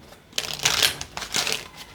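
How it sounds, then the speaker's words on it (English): A deck of oracle cards is shuffled in a few quick riffling bursts, close and crisp, with short pauses between and no talking. "One last shuffle to close out this reading for you"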